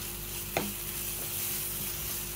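Spice paste fries in oil in a pan as a wooden spoon stirs it, giving a steady low sizzle with one sharp scrape or knock near the start and softer stirring after, no voices.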